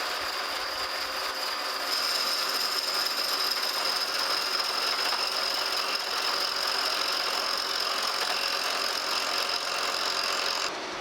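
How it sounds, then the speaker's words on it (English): Horizontal milling machine taking a heavy single-pass cut on a steel straight edge, a loud, steady grinding drone with a high whine that holds for about ten seconds with no talking. "That's the beauty of these horizontal mills, is that you can really take off a heavy cut in one pass."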